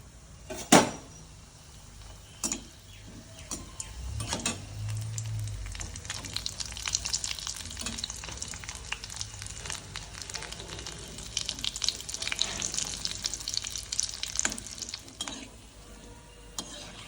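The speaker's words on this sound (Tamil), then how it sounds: "எண்ணெய் காஞ்சோடனே அடுப்பை சிம்மில் வச்சு தான் வறுக்கணும்" Pieces of mutton uppukandam frying in oil on a low flame, a continuous soft sizzle with a few sharp clanks and stirring scrapes, plus a brief low rumble partway through.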